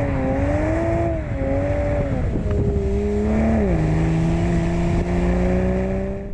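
Inside the cabin of a 2020 Toyota Supra, the engine drones loudly and steadily, its tone rising and dropping as revs change through a shift or two, with a synthetic, game-like quality.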